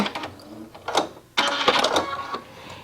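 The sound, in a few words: sewing machine stitching a hem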